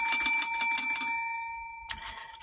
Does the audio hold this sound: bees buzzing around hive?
no